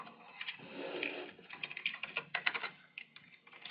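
Quick bursts of keystrokes on a computer keyboard as code is typed, uneven clusters of clicks close and quiet, with no talking.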